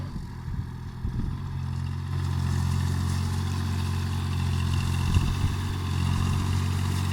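A farm tractor working a rotary tiller in a flooded rice paddy gives a steady, close, low engine drone. The note lifts slightly partway through as the engine works harder, then holds evenly.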